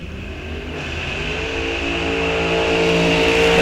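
A loud twin-engine dragster engine revs and climbs steadily in pitch at a drag strip, a powerful racing engine building up and growing louder over a few seconds.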